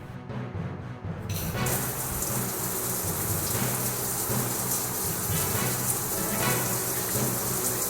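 An indoor shower running, used to imitate rain: a steady, dense hiss of falling water that starts abruptly after a moment of near quiet and then continues evenly and fairly loud.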